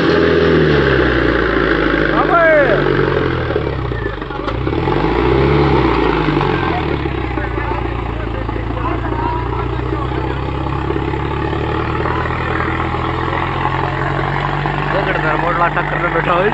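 An Indo Farm 3055 tractor engine runs steadily with a loud, throbbing low drone throughout, and people talk over it.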